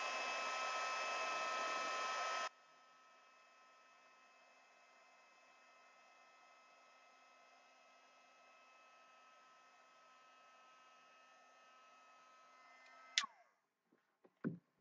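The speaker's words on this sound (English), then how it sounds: "try and not drop my heat tool" A heat tool embossing a mixed media art journal page blows with a loud, steady, hair-dryer-like roar for about two and a half seconds. It then cuts off, leaving a faint hum and a few light clicks and knocks near the end.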